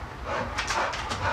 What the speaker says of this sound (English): My dogs are rough housing on the deck.